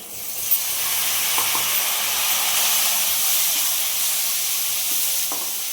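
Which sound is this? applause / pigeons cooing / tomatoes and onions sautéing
tomatoes and onions sautéing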